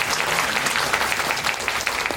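A press-conference audience in a hall gives steady, moderately loud applause of many hands clapping at once, continuing without pause.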